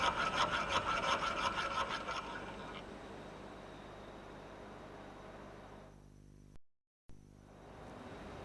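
A round rat tail file rasps back and forth against a workpiece in a workshop, several quick rhythmic strokes at the start, then quieter scraping that fades before a brief cut of silence.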